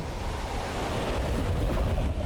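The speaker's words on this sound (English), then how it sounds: "that is one strong wind" A summon's attack in a Final Fantasy game unleashes a steady, dense roar of strong wind and rushing water, loud and unbroken throughout with no talk.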